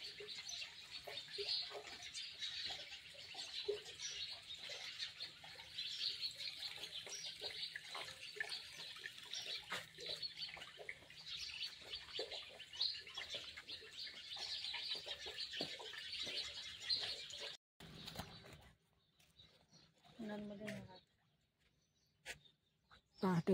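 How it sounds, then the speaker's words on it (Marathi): Birds twittering at daybreak on the bank of the Narmada river, a steady faint chorus of chirps with soft background noise, thinning out near the end. "सगळीकडे छान पक्ष्यांचा किलबिलाट।"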